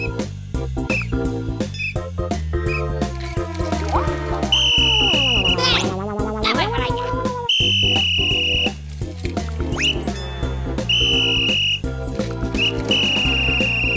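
A cartoon whistle blows in several sharp, loud shrill blasts over bouncy music with springy comic effects.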